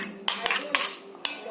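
Homemade slime being stirred in a bowl, with several sharp scraping clinks of a utensil against the container, close and moderately loud, separated by softer squelchy mixing in between.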